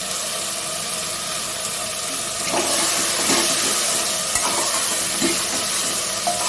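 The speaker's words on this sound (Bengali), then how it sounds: "যেহেতু ভাজা হচ্ছে।" Onions, tomato and vegetables fry in a pan with a continuous close sizzle, punctuated by a few soft stirring scrapes and clinks, no talking.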